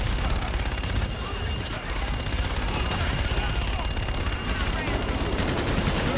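Gunfire in the video game Call of Duty Infinite Warfare, a dense continuous barrage of shots and rumbling blasts, loud and unbroken throughout, with no clear talk.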